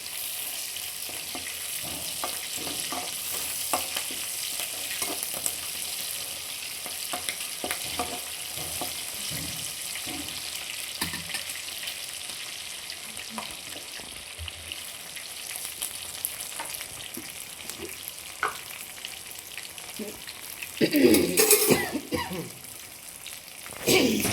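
Garlic, green and dry red chilies and curry leaves tempering in hot oil for dondakaya fry, a continuous close sizzle with scattered pops and crackles that flare louder near the end.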